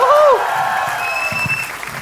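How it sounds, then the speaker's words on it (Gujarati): A studio audience at a comedy show applauds as guests are welcomed on stage. The clapping is steady and moderate, starting under a brief whistle-like tone and a short voice. "So with a huge round of applause, let's welcome on the stage Chirayu, Deep, Om and the amazing Dr. Manish Khaitan"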